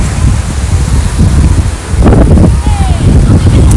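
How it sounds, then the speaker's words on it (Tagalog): Wind blowing steadily across an outdoor microphone in the province, a continuous broadband roar with rumbling gusts, with brief voices briefly audible within it. "Mahangin."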